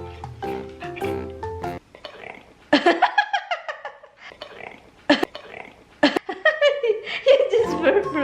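A dog burps repeatedly while eating, several loud, close guttural bursts spaced across the moment, mixed with human chuckling and laughter nearby.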